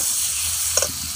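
Dried tomato dropped into spices frying in a pan for a dhaba-style egg tadka, a brief steady hiss of sizzling oil with a couple of small pops, close and without talk.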